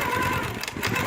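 Longarm quilting machine stitching a feather fill pattern, a close, continuous mechanical whirring hum with slight fluctuations over about a second.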